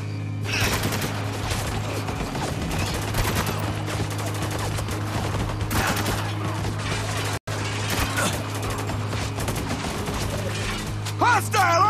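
Heavy automatic gunfire rattles almost nonstop through a Spec Ops: The Line firefight, with dense overlapping bursts and shots that break only briefly near the middle. Shouted voices can be heard under the barrage.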